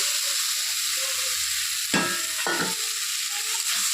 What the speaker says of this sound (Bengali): এখন আমি এর মধ্যে দিয়ে দিব ভেজে রাখা আলু